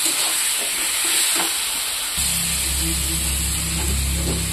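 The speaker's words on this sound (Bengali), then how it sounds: "দিয়ে আমি ওখানে এটা ভালো করে ভাজবো।" Cauliflower with turmeric and salt fries in a pan, giving a continuous bright sizzle that jumps louder partway through as stirring adds scraping and clattering, with no talk.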